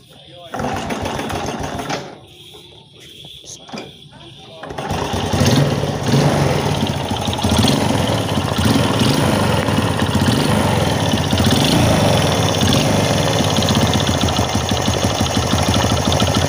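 A Honda Supra Fit motorcycle's small engine fires after a kick start and settles into a loud, steady, rapid idle that runs close by, following a few seconds of clunking and quieter activity.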